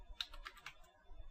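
Quick, light keystrokes on a computer keyboard, a handful of soft clicks in an uneven rhythm, faint and close with no talking.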